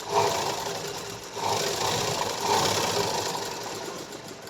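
A sewing machine stitching a blouse shoulder runs at close range with a steady whirring hum and faint rhythmic needle clatter that swells slightly in places, and no talking.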